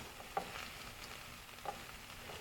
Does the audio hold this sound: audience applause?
no